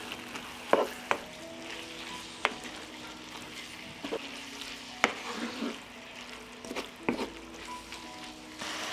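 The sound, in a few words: stirring meat with spices and paprika in a frying pan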